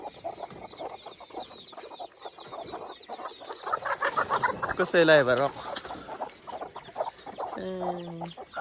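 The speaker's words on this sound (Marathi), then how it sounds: "मी सोडतो कोंबड्या कोंबड्यांना झालाय उशीर" Hens being let out in the morning cluck and squawk around a farmyard, with a louder burst of calls midway and a person speaking briefly over the flock.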